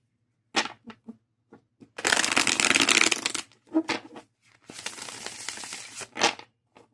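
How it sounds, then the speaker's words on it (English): A deck of playing cards is shuffled nearby in two longer riffling bursts, with scattered sharp taps and short card flicks before, between and after them. "I just put these cards back together."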